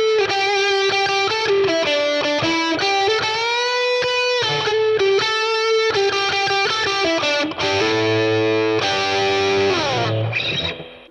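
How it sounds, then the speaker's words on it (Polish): BOSS Katana Gen 3 amp on its lead channel plays a loud, distorted solo guitar line of sustained notes, bends and quick runs, with heavier chords near the end and no talking. "Następnie lead, czyli typowo solówkowy."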